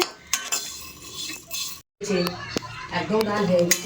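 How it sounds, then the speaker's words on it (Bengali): Vermicelli fries in ghee as it is stirred in a pan, with scraping and clinking of the utensil against the metal over a faint sizzle while voices talk throughout. "এই যে এটাকে লাল লাল করে ফ্রাই করছি"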